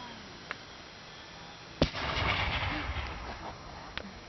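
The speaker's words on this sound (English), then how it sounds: "We're going to demonstrate the cohorn mortar fired by linstock right now." A cohorn mortar fired by linstock at a Civil War enactment in Cook Forest gives one sharp outdoor boom that rolls into a few seconds of rumbling echo, with faint pops before and after.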